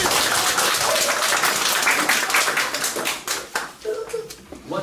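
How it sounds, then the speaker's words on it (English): An audience at an end-of-summer class celebration claps hands together, a broad burst of applause that thins into scattered individual claps, with a few voices and children heard faintly underneath. "One more time, clap your hands."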